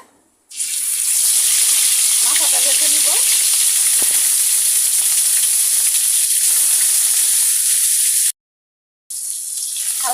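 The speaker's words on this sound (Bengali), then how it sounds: "এখানে আমি প্রথমে মাথাটা ভেজে নিব তেল গরম হয়ে গেছে" Rohu fish head frying in hot oil for a Bengali muri ghonto: a loud, steady crackling sizzle runs almost the whole time, breaks off into a short silence near the end, then resumes.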